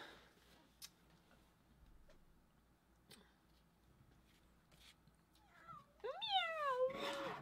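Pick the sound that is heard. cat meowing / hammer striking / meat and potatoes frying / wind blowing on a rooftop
cat meowing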